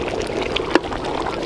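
Water is poured into a pot of goat curry cooking outdoors, a steady rushing splash that holds at an even level throughout, with no talking.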